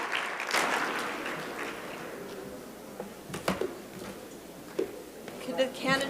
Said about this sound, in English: If we could give our candidates a round of applause for their thoughtful answers to all of the questions.